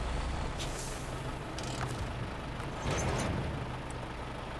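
Heavy truck in the Snowrunner video game creeping a short way forward, its engine a steady low rumble with hissing air-brake bursts at intervals, loud and close, with no talking.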